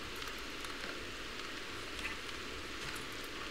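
Steady rain in the Rimworld video game, a faint continuous hiss without pauses or distinct drops, heard alone with no talking.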